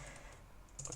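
Short burst of computer keyboard typing, a few quick keystrokes close and fairly quiet, with no talking.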